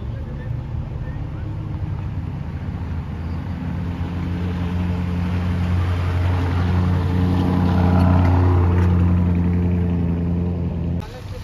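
A Lamborghini Urus engine runs just after starting on a Monaco street at night, a loud, steady low rumble that swells gradually and stays close. Wind buffets the microphone throughout.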